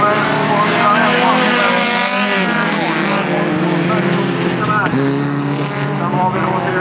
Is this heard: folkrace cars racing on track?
yes